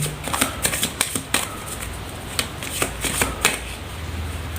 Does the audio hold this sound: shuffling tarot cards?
yes